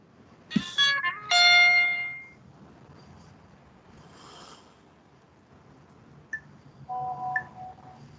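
Short electronic tones from a mobile phone chirp in a quiet lecture room, a few bright beeps and melodic notes scattered over several seconds, faint room murmur between them.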